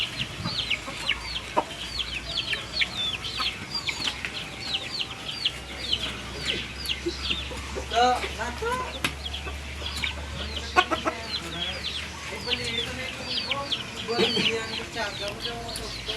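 Chickens cluck repeatedly near a small shelter, a busy run of short clucks and calls throughout, with a person speaking briefly now and then.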